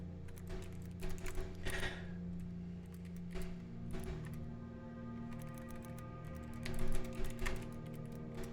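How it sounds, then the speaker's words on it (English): Computer keyboard keys tapped in quick irregular bursts while playing the puzzle game Blue Prince, close and clear over a steady low background hum, with pauses between flurries of keystrokes. "I'm also typing in something I remember from, what was it, Alzarak, the fortune teller."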